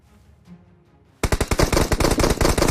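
Automatic gunfire in the mobile battle-royale game PUBG Mobile breaks a near-silent moment, a sudden loud, rapid burst of shots that keeps going without pause.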